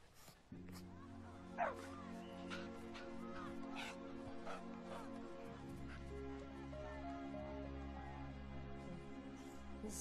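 Dogs barking and whimpering, with sharp yips and barks scattered over a steady low droning background, fairly close and moderately loud, no talk.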